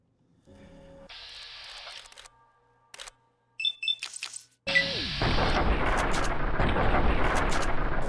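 Rifle fire from a hunting rifle in the Fallout Tale of Two Wastelands mod, a few sharp cracks after quieter game sounds, then a sustained loud noisy roar.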